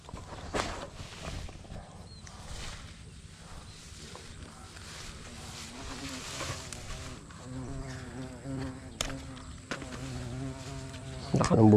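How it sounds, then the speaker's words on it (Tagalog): Bees buzz steadily around eggplant plants during a harvest, a close, continuous drone that swells toward the end, with light rustling from handling the plants. "Naka ng bubuyog, oh."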